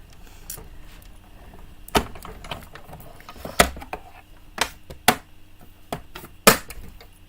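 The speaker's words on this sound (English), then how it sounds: "let me die cut that" A die cutting machine works through paper, giving a series of sharp, separate cracks and clunks spaced a second or so apart over a quiet background, close by.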